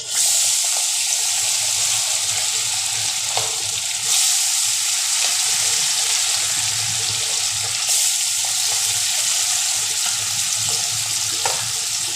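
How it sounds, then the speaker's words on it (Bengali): Small puti fish fry in very hot oil, a loud, steady, close sizzle that runs unbroken for about twelve seconds with faint spatter and occasional clicks, no talking. "এবার আমি একটা একটা করে মাছ তেলের মধ্যে দিয়ে দিচ্ছি।"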